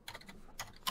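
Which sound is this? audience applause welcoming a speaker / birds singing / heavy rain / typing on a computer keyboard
typing on a computer keyboard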